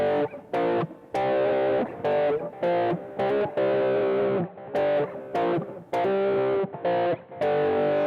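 Distorted electric guitar plays a famous rock riff as chunky stabbed power chords in the familiar stop-start rhythm, repeated twice, loud and close with no voices.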